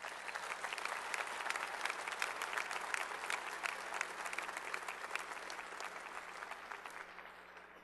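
Steady, full applause from a large audience fills a 2012 Casper College graduation hall, continuous crackling clapping that holds evenly throughout and eases slightly at the end.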